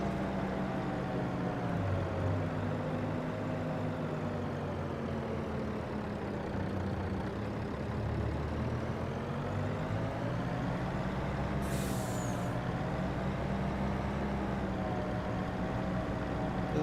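Heavy 500-horsepower farm vehicle engine in Farming Simulator 25, a steady low droning rumble with shifting tones running the whole time, plus a brief hiss near the end.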